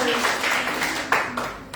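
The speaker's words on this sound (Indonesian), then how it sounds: "Tepuk tangan jangan sampai bawah kita." A church congregation claps along during a Sunday service, the brief clapping half-buried under an amplified voice speaking over it.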